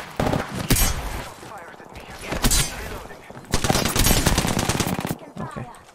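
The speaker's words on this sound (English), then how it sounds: "Shoot him, Tony." Rapid automatic gunfire in a video game firefight, loud bursts of shots coming in clusters with short gaps between them, layered under excited player chatter.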